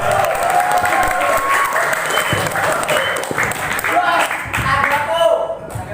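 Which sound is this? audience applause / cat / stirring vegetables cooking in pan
audience applause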